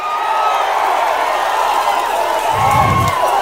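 A large crowd at a political election rally roars and cheers loudly and continuously, a dense wash of voices with a swell near the end and little distinct clapping.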